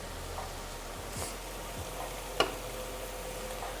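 Onion compote cooking in a pan, a soft continuous sizzle with occasional faint clicks and stirring scrapes, quiet and close.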